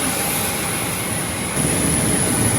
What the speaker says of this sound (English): The engines are CFM LEAP engines, made by CFM International.